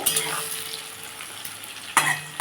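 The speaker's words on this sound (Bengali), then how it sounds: "দেখুন বন্ধুরা আমার পেঁয়াজটা অনেকটাই ভাজা হয়ে গেছে" Onions sizzling in a pan while being stirred for a Bengali-style country chicken curry, a short close burst of frying hiss with a couple of sharp scrape accents.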